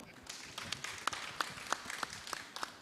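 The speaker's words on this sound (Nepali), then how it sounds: "आफ्नै लागि एकचोटि ताली बजाउनुहोस् त।" Applause from an audience at a thought festival in Rajbiraj, a short burst of fairly faint scattered clapping with a few sharper individual claps standing out.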